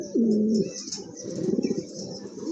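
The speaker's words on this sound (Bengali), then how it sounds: "এটা হচ্ছে আপনার নট কবুতর" A large pigeon coos close by in a loft, one drawn-out low coo followed by softer throaty cooing, with faint chirps in the background.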